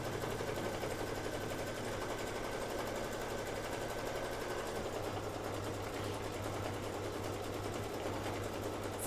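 An embroidery machine runs a long, steady stitching pass, giving a continuous even mechanical hum and rattle at moderate level with no talking.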